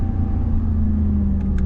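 Supercharged RAM TRX Hellcat-engined pickup truck driven hard, its engine a loud, steady low rumble with a brief change near the end as a gear shift lands, heard up close from inside the cab with no talking.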